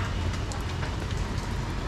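Steady rain falls outdoors with a continuous, fairly loud hiss. It stays even and unbroken for the whole moment, with no voices.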